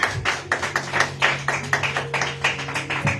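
Clapping from a church congregation during a worship service, a steady run of sharp hand claps with rhythmic pulses, with faint tonal music underneath.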